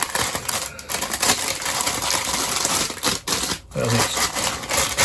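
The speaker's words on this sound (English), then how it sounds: "Excuse the noise while I get it out the bag." Crinkling, rustling plastic and scraping handling noises come in close, busy bursts as something is pulled out of a bag, with brief pauses between.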